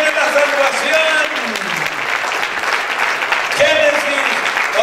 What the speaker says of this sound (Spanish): Denle un aplauso al Señor de los judíos.